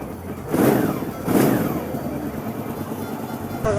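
A motorcycle engine runs steadily just after being started following a starter repair, with two louder swells of revving near the start, then a steady idle to the end.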